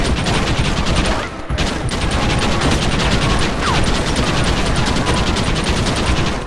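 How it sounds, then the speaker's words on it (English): A shootout in Red Dead Redemption fills the air with sustained, loud rapid gunfire, a dense rattle of shots that barely lets up, with shouting voices mixed in. "Stop shooting at me!"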